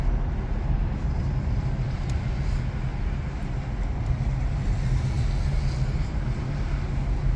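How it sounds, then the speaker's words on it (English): Continuous low rumble of a Toyota Prius Prime's tires rolling over concrete, steady and even throughout, with a faint hum beneath and no talking. "The only noise you're really going to hear are the tires on the concrete"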